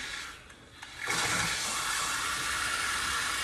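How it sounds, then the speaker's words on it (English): Water rushes out of a tube as a calcite media water filter backwashes, a steady, loud gushing flow that swells in after a brief quieter moment and continues unbroken. "And now it's backwashing out of that tube."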